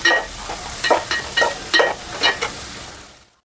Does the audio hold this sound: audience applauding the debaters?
no